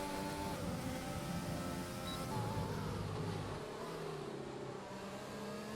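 Race car engines from a racing video game, a Mercedes and a Ferrari dueling in the Bahrain GP, hold a loud steady drone with shifting pitch as the cars battle side by side.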